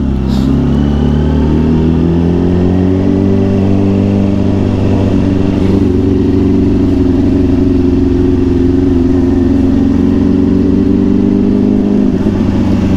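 A motorcycle rides through traffic with a loud, constant mid-pitched engine drone and road rumble that carries through the whole stretch without pause, and no one talks.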